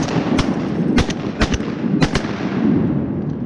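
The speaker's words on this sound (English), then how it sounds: "Nice shot, Mr. Steve." Several sharp shotgun blasts ring out during a duck hunt in Georgia, about six close, loud reports in an irregular volley over a steady outdoor background.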